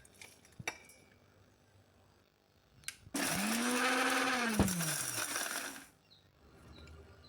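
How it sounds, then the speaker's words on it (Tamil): An electric mixer grinder jar whirs in one loud burst of about three seconds, grinding roasted spices and dried lemon for a mandi masala, with faint clicks before it starts and quiet after it stops. "ஒரு மிக்சி ஜாரில் போட்டு பல்ஸ் முறையில் தான் முதலாவது இதை அரைச்சி"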